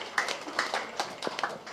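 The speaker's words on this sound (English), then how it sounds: "a big round of applause for his coordination" Scattered, fairly faint claps from a small audience at a panel discussion on Periyar's self-respect legacy, irregular and thin rather than a full ovation.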